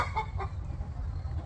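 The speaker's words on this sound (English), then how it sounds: "the hens come cluster around the rooster" Hens clustered around a rooster give a few short soft clucks over a low background rumble, close by and brief.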